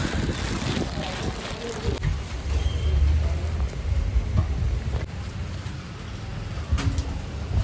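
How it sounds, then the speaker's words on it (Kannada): Steady rain pours down with a constant wash of noise, heavy and close, with occasional gusts and bumps and no voices. "ಮಳೆ ನೋಡಿ ಫ್ರೆಂಡ್ಸ್, ಎಂತ ಮಳೆ"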